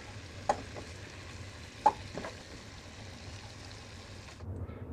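Chicken frying in a pan gives a soft, steady sizzle with faint crackles and two sharp utensil clinks, fairly quiet and with no talk.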